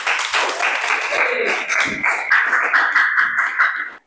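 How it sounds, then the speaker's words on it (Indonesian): A classroom of students claps together on request at the end of a lesson, a dense, close patter of hands holding steady for about four seconds before stopping abruptly. "Tepuk tangan semuanya."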